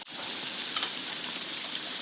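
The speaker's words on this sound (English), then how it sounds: "Listen to that satisfying sizzle." Steady, dense sizzling and crackling of vegetable egg rolls deep frying in oil at 350°F, continuous and close, with no voices.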